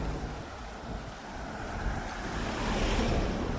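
Sea waves wash up on the shore at Praslin in the Seychelles, a continuous swelling surf rush mixed with wind noise on the microphone that grows louder toward the end.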